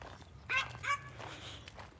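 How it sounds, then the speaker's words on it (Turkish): Dog gives two quick, light barks, fairly faint and close together, over low background noise. "İki tane köpeğimiz var burada."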